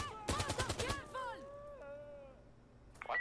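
Rapid burst of automatic gunfire in the Insurgency Sandstorm shooter game, about ten close, loud shots in under a second, followed by quieter game sounds and a short final crack.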